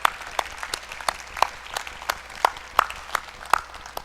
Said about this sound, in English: Big round of applause for everybody on the faculty and staff at the University of St.